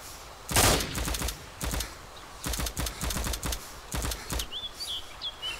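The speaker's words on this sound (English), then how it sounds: "Oh, it's you guys shooting each other?" Gunshots from players in the survival game DayZ crack out loud and sharp, first a single heavy shot and then repeated bursts of two or three rounds at uneven intervals, with faint bird chirps in the background and no speech.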